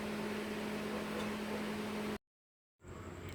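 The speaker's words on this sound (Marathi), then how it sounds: "आता हा मिक्सरमधून बारीक करून घ्यायचा आहे" A mixer grinder grinding roasted masala for a soybean chunk curry gives a loud, steady whine with a humming motor tone for about two seconds, stops abruptly, then starts up again after a short silence.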